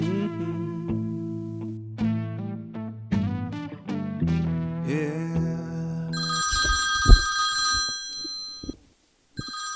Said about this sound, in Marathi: आईला ह्याला बी आत्ताच फोन करायचा होता का?